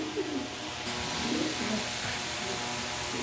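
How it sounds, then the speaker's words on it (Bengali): A pair of red checker pigeons cooing close by, low throaty rolling coos repeating over a steady hum of background noise, with no talking. "এখানে এক পেয়ার কবুতর দিলাম। দেখেন চেকার কাকে বলে।"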